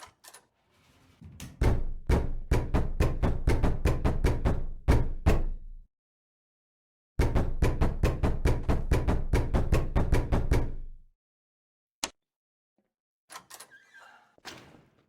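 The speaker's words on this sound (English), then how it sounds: "bang on this door now" Rapid, repeated heavy bangs on a door in a video game, in two long bursts separated by a pause, loud and close, followed by a single knock and faint scuffling.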